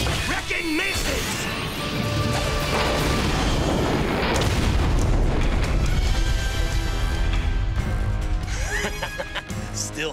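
Cartoon rock-wrecking missiles from a Voltron robot battle burst in a dense, loud barrage of booms and crashes lasting several seconds, with whooshing effects at start and end and a voice speaking briefly over the din.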